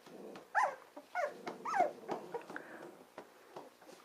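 Dogs off the lead growling and whimpering as they play together, a string of rough, close growls and yips rising and falling in uneven bursts over several seconds.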